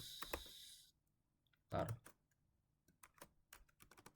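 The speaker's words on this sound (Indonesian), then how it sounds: "Oke, kita langsung ngetik aja di sini" Someone types code on a computer keyboard in a run of quick, uneven clicks and taps, close and fairly quiet, with a brief louder thump and hiss early on and no words over the keys.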